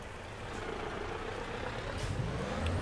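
A heavy truck engine in Euro Truck Simulator 2 hauling a very long load gives a steady, moderately loud drone that grows slightly louder toward the end, with no talk.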